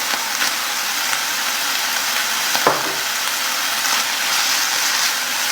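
Onion frying with garlic in a pan, a loud steady sizzle close up, broken by a few light clicks and one sharper knock of the utensil, with no talking.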